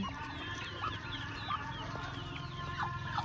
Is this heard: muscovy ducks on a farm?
yes